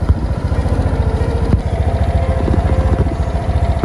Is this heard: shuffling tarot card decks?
no